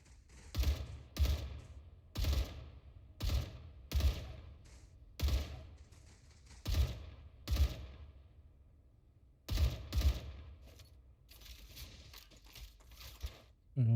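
Artillery bug firing in the StarRupture video game: a run of deep thumping blasts, each trailing off in a short crackle, coming every second or so in irregular bursts, fairly loud, no talking.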